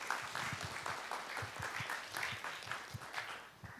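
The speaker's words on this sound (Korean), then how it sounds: "격려의 박수로 합시다" A lecture hall audience claps in encouragement, a faint, fairly distant patter of many hands with a loose uneven rhythm that swells and ebbs slightly.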